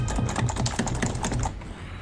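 Fast, frantic typing on a computer keyboard during a hectic Magicka game session, a dense close-up run of rapid key clacks in quick bursts that ease off near the end, with no talking.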